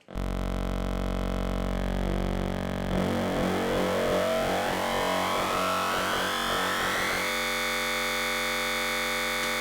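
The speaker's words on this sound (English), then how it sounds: "Let's use a saw wave and modulate it with a sine wave." A synthesizer tone built from a saw wave frequency-modulated by a sine wave, loud and continuous, with a buzzy, harmonically dense timbre that shifts and warbles, sweeping upward before settling into a steadier drone.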